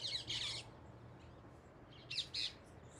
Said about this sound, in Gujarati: પોપટ બોલે લીમડામાં